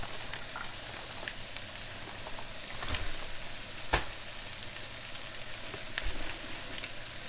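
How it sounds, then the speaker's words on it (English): Garlic sizzles in a frying pan alongside pork chops, a quiet, steady hiss of hot oil with a few sharp pops and spits breaking through. "so I'm going to add some garlic to the pan."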